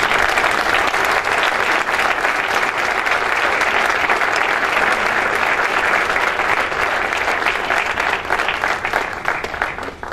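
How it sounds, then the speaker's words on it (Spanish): Sustained, dense applause from an audience at an environmental cooperation program award ceremony, loud and steady throughout with no pause, a few voices faintly mixed in. "Un fuerte aplauso a Las Encinas."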